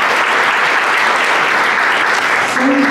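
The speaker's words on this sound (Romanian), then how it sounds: "aș vrea să vă rog să începem cu niște aplauze frumoase" An audience at a live event gives sustained, loud applause, dense and even, with no voices rising above it.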